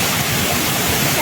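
A waterfall roars with steady, dense rushing water, close and loud throughout, in a wild outdoor setting where people cross it during heavy rain.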